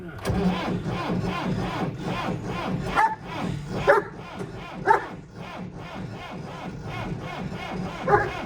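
A farm engine is started after polish is sprayed into it as a starting aid while sunflowers are being loaded: uneven cranking gives way to sputtering bursts and rising revs that pulse several times, fairly close.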